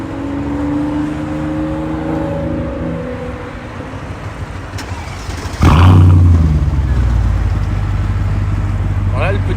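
A Mercedes CLK 55 AMG, one of 3,381 built, is started. A voice talks over a quiet hum, then a sharp crank fires the engine into a loud, close, rumbling idle that carries on to the end.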